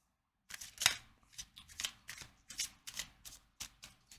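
Tarot cards shuffled by hand at close range, a rapid series of crisp riffling snaps and soft slaps in a steady rhythm after a brief silence.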